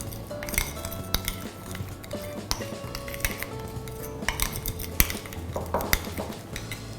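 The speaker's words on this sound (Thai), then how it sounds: "แล้วก็คนให้เข้ากันนะครับ" A prawn, parmesan cheese and herb mixture is stirred for a baked tiger prawn dish, with a metal utensil clinking and scraping steadily against a bowl. The taps ring out softly and keep coming throughout, with no talk.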